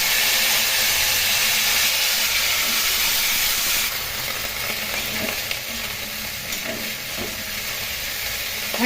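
Cauliflower florets frying with cumin seeds in hot oil, a loud, steady sizzle and hiss throughout, easing slightly partway with faint stirring clinks near the end.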